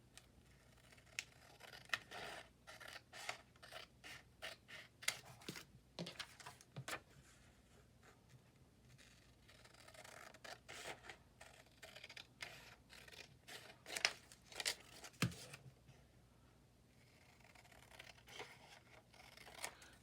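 Scissors cutting paper for a handmade journal, repeated crisp snips and rustling paper in quick irregular bursts, close and fairly quiet with small pauses between cuts.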